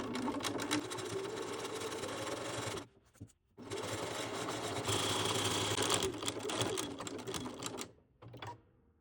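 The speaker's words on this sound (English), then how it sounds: "And then just continue to sew down the long edge." A sewing machine runs quickly along the long edge of a jacket tie, a fast steady mechanical whirr with two short pauses where the stitching stops and starts again; no talking.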